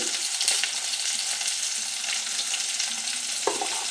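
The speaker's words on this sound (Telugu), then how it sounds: "మళ్ళీ ఒకసారి బాగా కలుపుకుందామండి" Turmeric and spices fry with radish in a pan, giving a soft steady sizzle broken by the scrape of a spoon stirring, including a sharper clink near the end.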